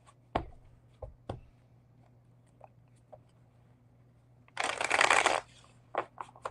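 A deck of cards being shuffled at a live reading session, a quick riffle burst of dense crackling patter near the end, preceded by a few scattered taps and handling knocks over a low steady hum.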